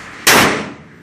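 A single loud gunshot from a 1911 Colt .45 pistol fired at an outdoor range: one sharp, close crack with a sudden attack that rings and decays over most of a second.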